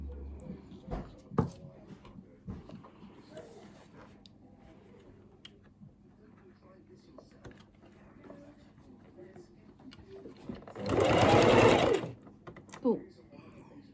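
Short burst of a sewing machine stitching over the leg seams of a sewn toy body, a loud whirring run of about a second near the end, preceded by quiet handling clicks and rustles.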